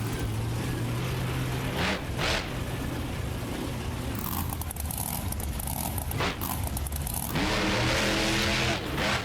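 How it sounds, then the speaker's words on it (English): A Bigfoot Ford monster truck in a BeamNG Drive game race on a course, the engine roaring and revving loudly and continuously, with surging pitch changes and bursts of harsher noise. "these Bigfoot Fords have a ton of horsepower"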